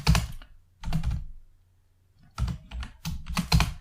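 Bursts of quick key clicks from a computer keyboard as Python for-loop code is typed, coming in three separate clusters with short pauses between them, close and fairly loud, with no voices.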